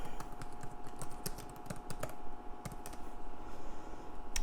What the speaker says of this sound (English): I am going to type in Abraham Lincoln